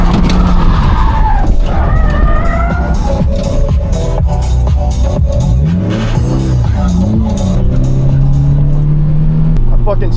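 A Shelby GT350-style car skids and spins out on a race track at a track day, with revving engine, swooping pitch shifts and tire squeal over several seconds, loud and close, as people talk over it.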